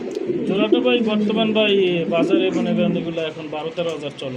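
Domestic pigeons at a Bangladeshi pigeon market, including a breeding pair with eggs, coo steadily and close by, their soft repeated calls running under continuous conversation between buyer and seller.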